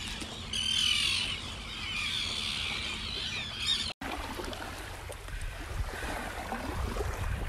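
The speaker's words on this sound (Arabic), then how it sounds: "ما فيها إلا النورس." Seagulls squawk along a remote, empty Red Sea shoreline, their shrill calls sounding close and repeated over steady wind and surf noise, with a brief break midway.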